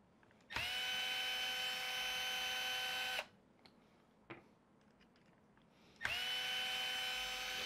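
A power driver whirs as it backs out the chassis brace screws on a Traxxas Fiesta Rally 1/10 RC car. There are two sustained, steady bursts, close and loud, separated by a quiet pause with a faint click.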